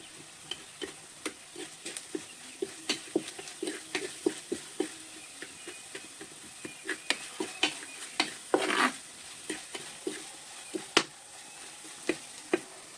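Chili powder and coriander powder sautéed in a pan for a mushroom dish: a soft, low sizzle under a rhythmic series of spoon scrapes and taps against the pan, close and fairly quiet.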